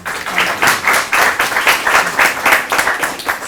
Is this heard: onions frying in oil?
no